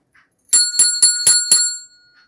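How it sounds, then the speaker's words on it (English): A small tarot altar bell rings five times in quick even succession, each strike bright and metallic with ringing overtones, close and loud, then fades to silence. "So this is the bell."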